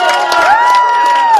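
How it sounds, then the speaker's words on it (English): Circus audience cheering and clapping after a spectator is called up to the ring, a loud, dense burst of crowd whoops with a sustained high shout riding over it. "give her a huge round of applause."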